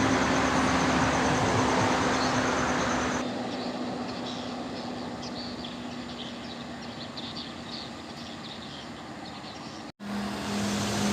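A Rapi bus runs behind a truck along a straight road, a steady droning engine and road rumble that eases slightly in loudness partway through, broken by a short dip near the end.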